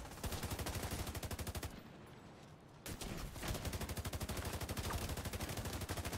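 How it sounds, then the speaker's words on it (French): Rapid automatic gunfire from the shooter game The Division 2 hammers in a dense, fast, loud rhythm, pausing briefly before resuming just as sustained. "Il y a un mec qui m'a tiré dessus là."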